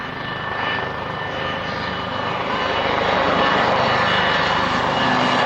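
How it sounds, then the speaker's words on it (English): A pair of Westland Lynx military helicopters makes a straight flyby at an Army Air Corps airshow, a loud continuous rotor and turbine roar that swells slightly as they pass, with no talk over it. "the 2 Lynx that took the free fall team up, taking their part in the salute. Straight flyby."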